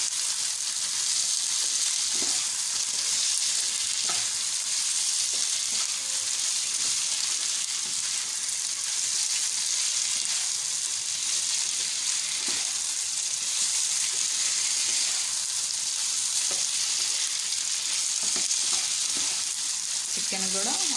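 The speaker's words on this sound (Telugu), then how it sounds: "చూస్తున్నారు కదా, చికెన్ ఆనియన్స్ బాగా ఫ్రై అవ్వాలి, డీప్ ఫ్రై అవ్వాలి." Chicken and onions deep-fry in a pan of hot oil, giving a loud, steady sizzle that fills the whole stretch, with occasional stirring scrapes close by.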